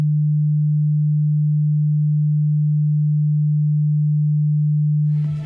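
A steady low-pitched sine wave test tone holds constant and loud for about five seconds, then cuts off with a brief click at the end.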